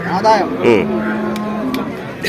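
Young buffalo calves low and bellow in short, drawn-out calls close by, with a busy market murmur in the background.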